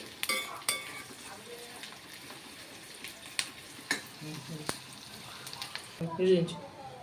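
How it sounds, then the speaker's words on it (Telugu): Onions fry in a pan of oil over low heat until reddish, a faint, quiet sizzle broken by a few sharp clicks and scrapes of stirring, with a short clatter near the end. "ఇవి ఎర్రగేంత వరకు వేపుకుందామండి ఇవి ఉల్లిగడ్డ ఎర్రగా కావాలి"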